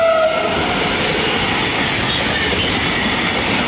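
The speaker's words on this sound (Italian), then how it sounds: "Si vede che è pesante questo treno, porta lamiere in rotoli" Heavy freight train pulled by two DB Traxx locomotives, hauling steel coils, rumbles past steadily and loudly at close range, with a brief horn-like tone at the start and continuous wagon noise throughout.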